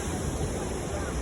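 Strong, swollen river water at Sundarijal rushing in a steady, dense roar that fills the short moment without a break.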